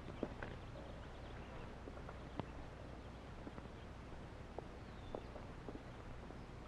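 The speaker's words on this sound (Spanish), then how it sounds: "¡Córrele con el caballo ya!" Horse hooves clopping along at a riding pace, faint and somewhat distant, with sparse, irregular hoofbeats over a steady background hiss and no talk.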